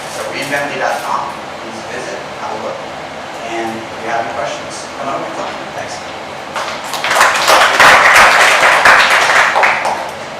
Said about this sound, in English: give a round of applause as we welcome Taylor to the stage